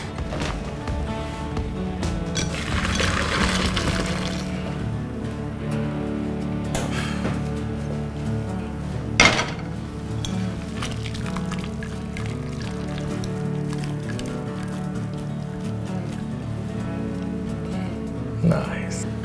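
Cooked pasta is lifted out of boiling water with splashing, dripping and pouring sounds, loudest early on, followed by softer water movement and a few clinks, with someone talking throughout.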